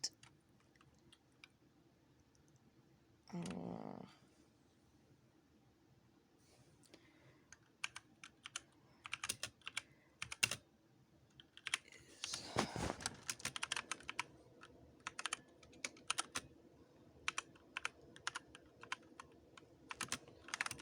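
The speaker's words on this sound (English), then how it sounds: "Sorry if a lot of this video is me typing things up." Computer keyboard typing, close and fairly quiet, in irregular bursts of clicky keystrokes with short pauses and one brief rustle early on; no voices.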